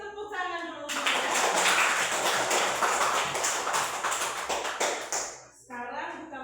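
A class of schoolchildren bursts into loud, dense, sustained applause in a science lesson, lasting several seconds, with a teacher's voice speaking just before and after.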